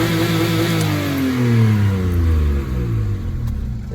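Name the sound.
car engine revving with accelerator pedal wedged to the floor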